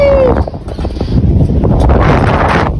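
Cold wind gusting across a microphone outdoors on a mountain trip in Mustang, a loud, low, buffeting rumble that fills the whole moment, with a faint voice briefly audible under it.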